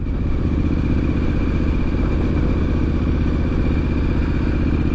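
Triumph Street Scrambler 900 motorcycle on the move on a warm day, its engine a steady, loud low rumble with constant throttle and road noise throughout, no voices.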